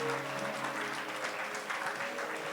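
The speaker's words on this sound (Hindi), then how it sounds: "प्रभु के लिए ताली" A congregation claps together at a church service, a steady, fairly soft wash of applause that carries on evenly across the moment.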